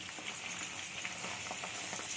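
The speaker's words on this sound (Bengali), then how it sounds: "কাজ হচ্ছে ভাজা" Herbs frying in oil in a pan for a homemade herbal hair oil, a steady close crackling sizzle with small pops and stirring scrapes throughout.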